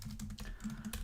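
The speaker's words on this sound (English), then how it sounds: "You can just get that arrow by typing that, I think." Computer keyboard typing during a math homework session, a steady run of close, fairly loud key clicks filling the whole second with no talk.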